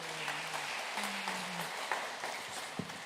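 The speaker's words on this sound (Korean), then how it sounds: "역시 큰 박수로 여러분 환영해 주시길 바랍니다" Quiet applause from a crowd welcoming a speaker at a joint Christian worship service marking the 81st anniversary of Korea's Liberation Day in Incheon, a soft, continuous patter of many hands with a faint background tone.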